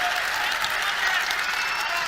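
An audience at a debate discussion applauds as a show-of-hands vote, sustained dense clapping, loud and steady throughout.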